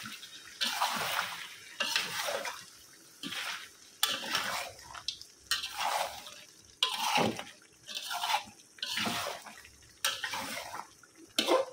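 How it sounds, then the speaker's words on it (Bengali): Meat and potatoes being stirred and browned together in a cooking pot, with a rhythmic series of scraping, splashy strokes repeating about once a second at close range. "আলুগুলা দিয়ে ভালোভাবে কষায় নেব"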